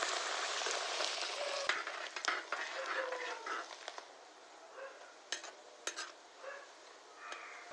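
Coconut pieces, chopped ginger and split garlic frying and being stirred in a pan for beef peralan, a bright hissing sizzle that fades gradually, with intermittent spatula scrapes and taps growing more noticeable toward the end.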